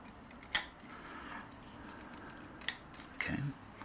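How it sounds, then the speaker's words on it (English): Sharp metallic clicks from a spring being pushed into a KLR650 cam chain adjuster, two crisp snaps a couple of seconds apart followed by a softer scrape, close up in a quiet workshop. "You can actually hear it clicking as I put the spring in."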